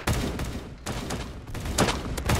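Rapid bursts of gunfire from the Roblox game Da Hood, loud and close, rattling in three or four quick volleys with brief pauses between them and no talk.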